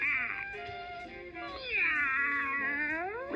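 A cat meows indoors, giving one drawn-out, wavering call that rises and falls, close and fairly quiet over a steady background hum.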